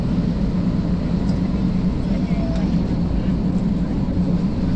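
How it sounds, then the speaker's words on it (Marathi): A passenger airplane on a flight from Thailand to Mumbai accelerates down the runway for takeoff, heard from inside the cabin as a loud, steady, broad engine and rolling roar that holds constant throughout. "फायनली विमान पळायला लागले. आणि कसलं स्पीड पकडले."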